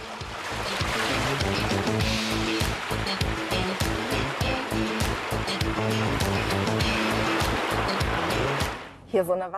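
A Volkswagen Amarok pickup drives through mud and water off-road, with loud sustained splashing and churning water, rhythmic thumping, and continuous engine rumble that cuts off near the end.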